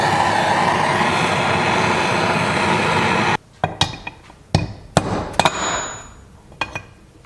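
A socket is hammered to knock a main crank bearing out of a dirt bike engine case, giving several sharp metallic strikes after a steady broadband noise ends, spaced irregularly and fairly close.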